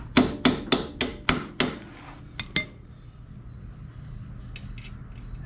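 A hammer strikes metal in a quick series of about six sharp ringing blows, followed by two more clinks and faint metallic taps, close and clear while prepping an ATV for skidding logs.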